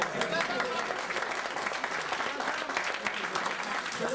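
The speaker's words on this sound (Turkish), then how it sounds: "Bir alkış istiyorum." A crowd claps continuously at a lively Turkish village gathering, a dense, close patter of hands with voices and chatter mixed underneath.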